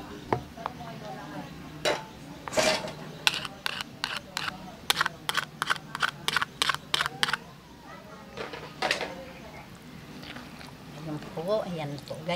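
Cassava flan ingredients being stirred in a bowl for a steamed dessert, with a utensil scraping and clinking against the bowl in bursts of quick repeated taps, close by and moderately loud.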